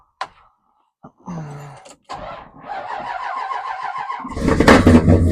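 The engine of a Dodge Power Wagon truck cranks after more gas is shot into it, opening with a few clicks and a brief squeal before a rough, sustained cranking grind that grows louder toward the end.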